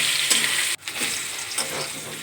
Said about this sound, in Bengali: সামান্য হলুদ দিয়ে ভালো করে লাল লাল করে ভেজে